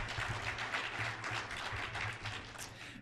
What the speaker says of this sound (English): I think we need another round of applause for that one for sure